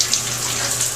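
Shower water runs steadily in a home bathroom, a close, continuous hiss and spray with no break.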